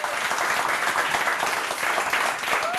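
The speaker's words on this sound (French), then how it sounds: "applaudissements pour elle" A game show studio audience applauds a contestant, a dense, even wash of clapping that holds steady throughout at close range.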